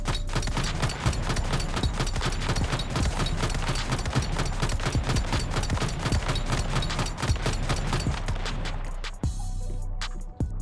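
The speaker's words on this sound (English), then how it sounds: "I'm gonna try to shoot this dummy, and every time the unstable bomber procs, it's gonna refill 2 ammo in my magazine" A pistol fires rapidly at a training dummy in Once Human, the shots running as a fast, even stream of sharp cracks for about nine seconds. It then stops, and a few isolated clicks follow.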